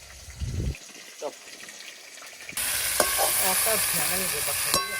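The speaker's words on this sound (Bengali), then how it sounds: "মুড়োগুলো খুব ভালো করে মজ মজা করে ভেজে নিয়েছি এবার তুলে নেবো" Fish heads frying in a pan, heard first as quiet movement and a brief bump, then a sudden loud, dense sizzle, with a voice talking over the frying.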